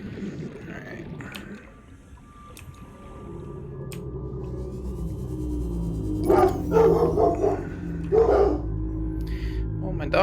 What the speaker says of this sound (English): my dogs are loud and they scared the crap out of me.